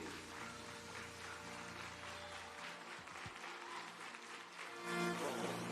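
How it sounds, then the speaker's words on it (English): Audience applause for award recipient Thomas at a science festival closing ceremony, a faint, distant spread of clapping heard against steady background hum, swelling slightly near the end. "A round of applause for him."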